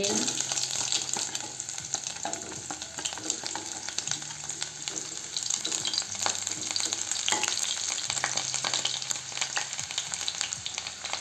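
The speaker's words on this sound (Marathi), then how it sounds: "आपलं तेल गरम झालेलं आहे यात आपण मोहरी घालू" Mustard seeds and onion frying in hot oil, a dense continuous crackle and sizzle with scattered sharp pops and stirring scrapes, loud and near throughout.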